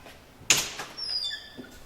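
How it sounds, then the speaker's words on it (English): Rear doors of an ambulance carrying a power cot being opened: a sharp latch clunk followed by a sliding, rattling swing of the doors and a faint later knock, fairly close. "So we open the doors here,"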